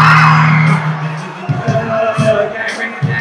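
Students at a school assembly yell together in one loud, sustained group shout that then drops away to scattered voices and chatter.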